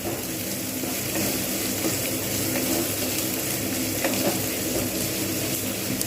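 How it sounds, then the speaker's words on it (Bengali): Onions frying in oil in a pan for Bengali banana flower ghonto, a steady dense sizzle running continuously at close range with no talking. "একটু লালচে করে ভাজবো"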